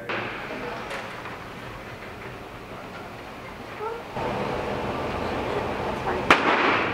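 At an indoor shooting range, a single sharp gunshot cracks loudly near the end after several seconds of steady background noise and muffled voices.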